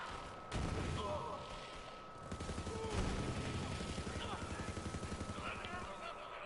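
Borderlands 3 gunfire rattles in dense, rapid bursts, a fast rhythmic stream of shots that runs continuously and close, with voices talking over the action.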